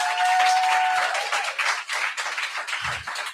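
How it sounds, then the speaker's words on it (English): A crowd at a lecture claps in dense, steady applause that thins out toward the end, with a faint whistle near the start. "And a round of applause for all of the volunteers that have made this event possible"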